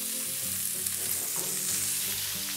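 Lamb shoulder sears and browns in a hot pan with a steady, close crackling sizzle and occasional stirring scrapes, with no talking over it.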